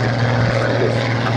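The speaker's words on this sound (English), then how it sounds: "we see rolling 4 Hawker Hurricanes, Fighter Command's most numerous type during the summer of 1940." Hawker Hurricane fighters fly past at an air show, a steady loud propeller-engine drone with a low throbbing hum that holds constant throughout.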